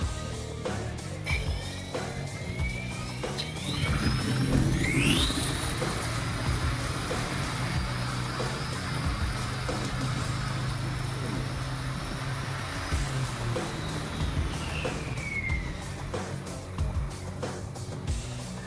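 A handmade brushless DC electric motor run at 24 volts spins up with a rising whine that sweeps upward, then settles into a steady high tone and slowly winds down, over a background of mechanical rumble.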